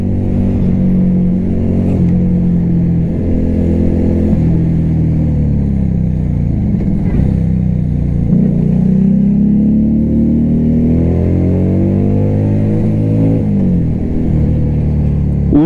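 A CMC Buccaneer cafe racer motorcycle engine revs and winds down under engine braking, its loud, close exhaust note falling and rising in pitch through several gear changes.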